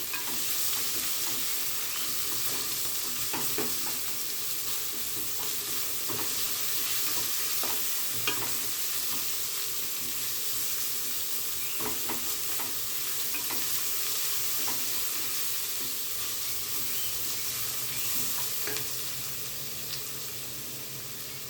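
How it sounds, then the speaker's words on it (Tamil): Onions sautéing in a pan for an Andhra-style parboiled rice pulao, a loud continuous sizzle with occasional stirring scrapes, close by with no talk. "இப்போ வெங்காயம் நல்லா வதங்கிட்டோம் கோல்டன் கலராக ஃப்ரை பண்ணி எடுக்கலாம்"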